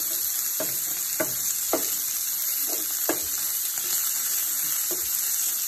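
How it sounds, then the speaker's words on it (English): Potatoes, red and green peppers and white onions sizzle steadily in a frying pan, a constant close hiss broken by a few sharp scraping clicks as the food is stirred. "as the broth continues to sizzle and cook, I'm going to add the peppers."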